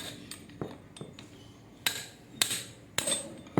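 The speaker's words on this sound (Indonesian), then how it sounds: "Pokoknya kita palu-palu lah." A hammer drives a large chisel against the spot welds of a front shock absorber support on a Toyota Agya or Daihatsu Ayla, giving about half a dozen sharp metallic strikes at an uneven pace, close by.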